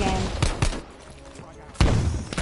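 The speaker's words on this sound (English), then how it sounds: "this might just be the best SMG in the game" SMG fire in Call of Duty Cold War, loud bursts of rapid shots separated by a short quieter gap, with a final burst near the end.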